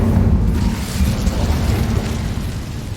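Incendio fire spell blast in the Hogwarts Legacy video game, a loud, steady whooshing burst with deep rumble sustained across the whole stretch, no talk over it.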